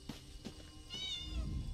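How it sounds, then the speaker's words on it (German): A single soft cat meow from a game character in The Elder Scrolls Online, faint and short, over quiet background ambience. "Der Stern ist eine Katze."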